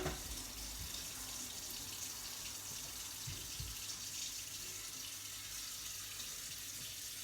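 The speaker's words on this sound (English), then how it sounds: "add the cold water into the pan" Cold water runs steadily from a tap into a pan of rinsed risotto rice, giving a continuous close, hissing gush with no speech.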